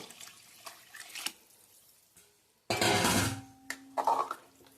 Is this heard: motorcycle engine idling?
no